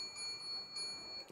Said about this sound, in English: I'm sure you can hear the bell also right now